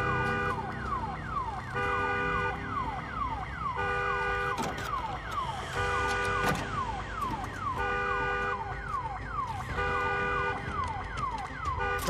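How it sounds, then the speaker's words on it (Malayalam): A car alarm in the zombie video game Days Gone, a loud, wailing tone that sweeps up and down in quick repeated cycles for the whole stretch over a steady, droning background. "ഉണ്ടോ കാറിന്റെ ഹോൺ ഓൺ ആവുമ്പോഴാണ് നിങ്ങൾ ഓടി വരണത്."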